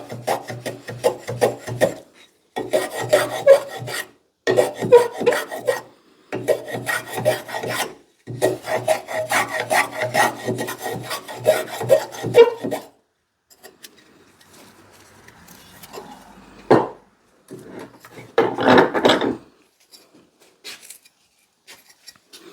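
A rasp files and chamfers a wooden axe handle to fit the axe head's eye: rapid scraping strokes come in several long close bursts separated by short pauses, then a few sparse, lighter strokes near the end.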